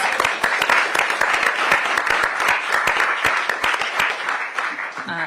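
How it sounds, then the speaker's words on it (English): A crowd applauding steadily for several seconds, dense clapping with sharp individual claps standing out, fairly close and continuous. "Let's give them a round of applause."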